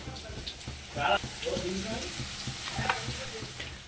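Cumin and ginger paste frying in a pan for a fish kalia, a crackling sizzle with scraping and stirring bursts, and a voice talking over it.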